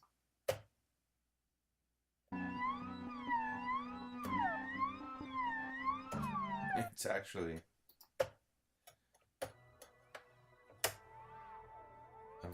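A synthesizer patch generated with the mutate function in Native Instruments Absynth sounds as sustained tonal layers with wavering, sweeping pitch, interrupted by sharp clicks and brief gaps, and a short spoken remark comes in near the end.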